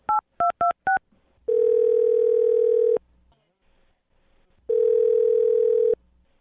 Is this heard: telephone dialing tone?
yes